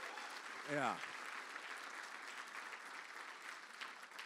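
An audience applauds at a political event in a Detroit arena, producing a steady wash of clapping that continues throughout, with a short spoken word near the start.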